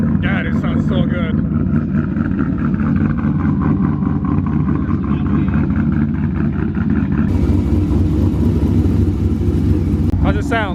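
A loud, deep-toned modified widebody Corvette Z06 engine idles and revs up close, a continuous heavy rumble with shifts in pitch throughout.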